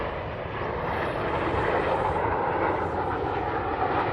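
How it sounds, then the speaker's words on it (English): Fighter jets flying overhead above a residential community, a steady, loud broadband roar that holds constant throughout with no talk. "So actually I want to show you these fighter planes."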